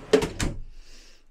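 A drawer in a 2003 Country Coach Allure motorhome opens or shuts with a couple of quick wooden knocks and a soft slide, close up, followed by a brief quiet tail.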